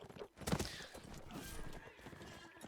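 A horse in a cavalry video game gives a sharp neigh near the start, followed by hoof clatter and gallop noise, with faint background sounds throughout and no clear talk.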